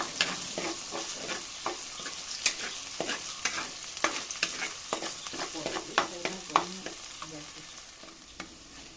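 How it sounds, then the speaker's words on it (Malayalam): Onions and tomato sauté in a hot pan, a continuous close sizzle broken by regular scraping and clinking strokes as a utensil stirs them, with no talking. "ഉള്ളിയൊക്കെ നല്ലപോലെ നമുക്ക് വഴറ്റിയെടുക്കാം"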